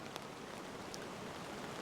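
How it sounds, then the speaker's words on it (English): Rain falls during car camping with a pop-up tent, a faint, steady hiss of drops pattering on a surface with a few sharper taps. "here comes the rain."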